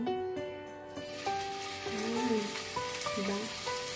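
Asparagus wrapped in beef fries in hot oil in a pan, giving a loud, steady close sizzle throughout, with faint tonal background sound over it.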